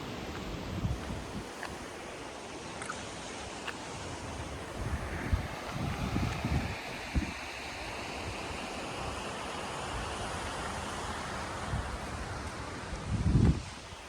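Sea waves roll on the Konkan coast in a continuous surf wash, with gusts of wind buffeting the microphone and a louder surge near the end.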